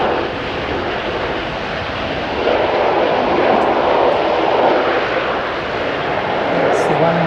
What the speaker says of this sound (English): Dreamliner off to Melbourne.